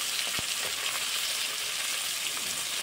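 Fish fries crisp in a wok with a dense, steady sizzle and crackle, close and fairly loud, with a single brief clink near the start.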